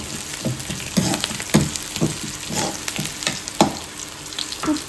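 Tempering sizzles and crackles in a hot pan, a rapid run of sharp pops and spitting bursts over a steady frying hiss, close and fairly loud with no talking.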